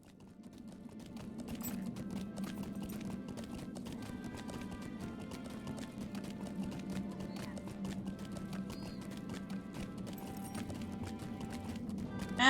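Horse hooves clip-clop in a steady, even rhythm in the Lord of the Rings Online game, quiet and continuous over a low ambient hum, with no talking.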